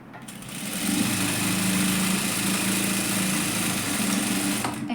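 A sewing machine runs continuously while stitching a double seam on a katori blouse, a steady close mechanical whir that starts after a brief pause and holds for several seconds alone.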